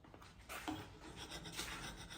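A scraper rasps across old paint on an antique wooden display cabinet with ball and claw feet, a short run of soft, close scraping strokes.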